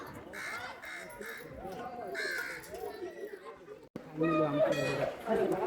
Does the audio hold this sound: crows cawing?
yes